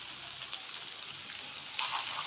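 Soy sauce and chili sauce simmer and sizzle in a pan over a medium flame while making chicken Manchurian, a steady soft crackling hiss that swells briefly near the end.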